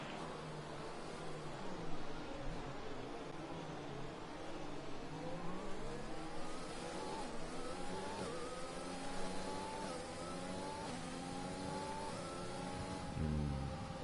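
An F1 race car engine in the F1 2020 video game revs hard at the race start of the Bahrain Grand Prix, a loud, steady rising whine with layered harmonics that climb in pitch, alone without talk.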